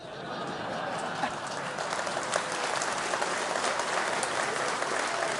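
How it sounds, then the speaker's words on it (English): Applause from an audience at a Conservative Party leadership hustings in Darlington, a thick, even wash of clapping that swells slightly and holds steady throughout, with faint laughter or crowd murmur beneath. "I think you're always going to get a clap for that."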